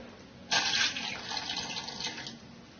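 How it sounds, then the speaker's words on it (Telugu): Water splashes into a pot of tomatoes and tamarind on the stove with a bright rushing gush, then settles into a steady, softer pour for a couple of seconds before trailing off. "కొన్ని వాటర్ వేసుకుని టమాటాలు మగ్గేంత వరకు ఉడికించుకుందాం"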